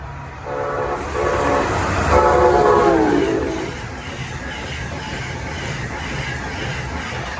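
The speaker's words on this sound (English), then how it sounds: "Coming from Richmond is another Northeast Regional." An Amtrak Northeast Regional train from Richmond passes Princeton Junction, its horn sounding in a loud harmonic blast for a few seconds over the rising rumble of the cars, then the rolling noise settles to a steady wash.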